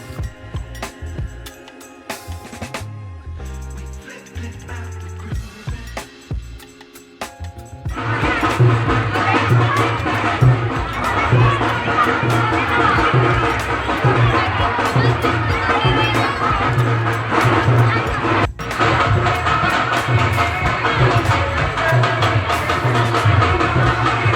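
Crowd noise at a village Ganga Mata procession on a hot, packed day: a few seconds of scattered sounds, then loud, dense, continuous babble, shouting and cheering from many people nearby.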